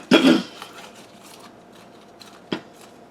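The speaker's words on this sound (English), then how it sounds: "So I'm going to use my trusty spatula." A very old spatula scrapes and pries a Ctenanthe Burle Marxii out of a sturdy plastic pot, giving a loud scratchy scrape up close, then faint rustling and a second short sharp scrape.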